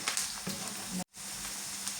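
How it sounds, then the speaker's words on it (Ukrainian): Onions sizzle steadily in a hot pan, a constant crackling hiss that cuts out briefly for an instant before resuming. "Ось так смажиться наша цибулька."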